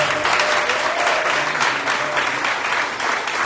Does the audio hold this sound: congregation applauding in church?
yes